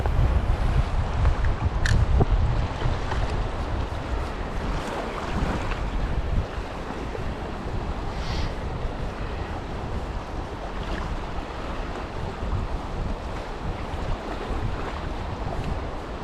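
Sea waves wash and churn steadily along a rocky shore during spring sea trout fishing, heavy wind buffeting the microphone throughout, a long continuous roar with no voices.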